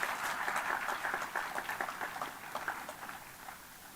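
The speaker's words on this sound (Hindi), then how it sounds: "एक ताली मारिए जोर से" An audience at a Harela event at GBPUAT, Pantnagar claps in a brief burst of applause, fairly faint and fading over a few seconds.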